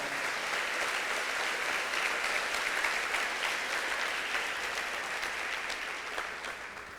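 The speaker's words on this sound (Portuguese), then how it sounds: "Dê um aplauso ao Senhor pela sua palavra." A church congregation claps loudly and continuously, the applause holding steady before easing slightly toward the end.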